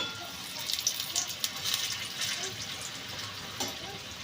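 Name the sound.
palm fruit fritters (tal bora) frying in oil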